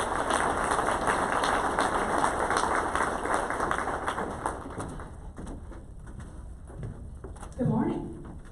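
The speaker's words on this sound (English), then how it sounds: "Please give them applause." An audience at a business breakfast event applauds steadily for several seconds, the clapping thinning out toward the end, where faint voices emerge.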